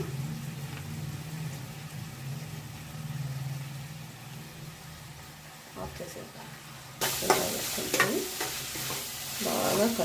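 Small-fish curry masala is stirred in a pan, a low hum and soft scraping at first, then a louder sizzle and repeated stirring scrapes, with a voice talking over it.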